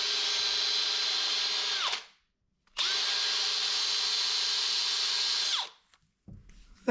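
A Scotch-Brite pad scrubs a metal helm pedestal on a boat in two motorised whirring bursts of about two and three seconds. Each burst ends with a falling wind-down, close and alone.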